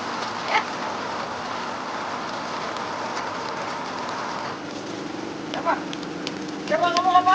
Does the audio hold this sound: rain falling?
yes